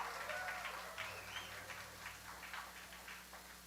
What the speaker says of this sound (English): Let them give one more round of applause